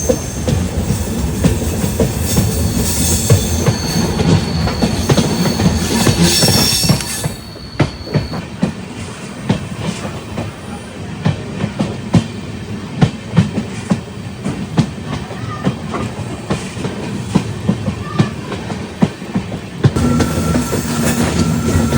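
An LHB-coach Guruvayur–Madurai Express runs on rails near Aryankavu, a loud steady rumble of wheels and carriages with clickety-clack joints and brief wheel squeals, sustained throughout with no talk.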